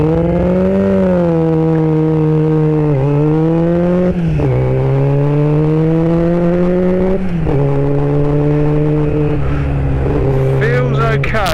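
Steady engine hum from a vehicle nicknamed Sting, idling a little high with a suspected fuel supply fault, holding a droning tone that dips and wavers slightly across the clip.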